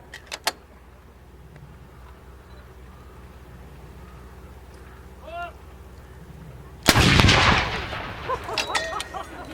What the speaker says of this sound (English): we'll have 1 round of gunfire, which will now be loaded and fired.